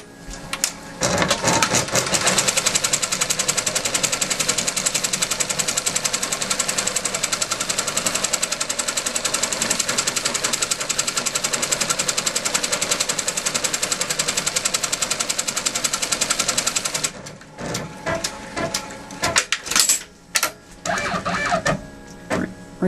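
Machine embroidery stitching a tack-down line on a crazy quilt block, a loud rapid mechanical hammering chatter running steadily for about seventeen seconds, then stopping into a few clicks and clunks.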